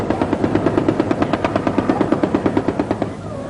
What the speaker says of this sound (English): first drawing guerrilla fire from a helicopter to establish their position.